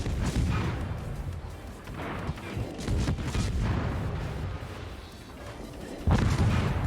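Rapid destroyer gun salvos in World of Warships, with the German Tier VIII Z-35 firing repeated booming shots over a dense, rumbling battle mix.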